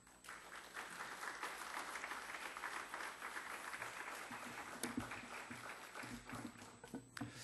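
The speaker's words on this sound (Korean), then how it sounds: "우리 박수로 우리 목사님 환영하겠습니다" A church congregation at a special revival service claps together in welcome for the pastor, a soft, distant, continuous patter of many hands lasting several seconds.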